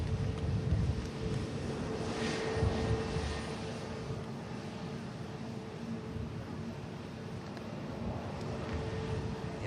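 A Ryanair airliner arriving from Faro touches down, a steady distant jet roar that swells slightly at first and then holds on outdoors.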